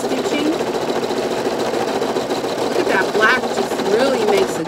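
A Brother Innov'is NQ1600E embroidery machine stitches with a loud, steady mechanical hum and rapid needle clatter, a few brief whirring shifts partway through, and a voice speaking over it.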